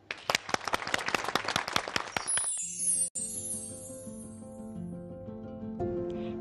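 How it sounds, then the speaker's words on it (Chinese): An audience in a studio for a children's school program claps in a lively burst for about two seconds before it stops abruptly and soft music takes over. "大家掌声欢迎。"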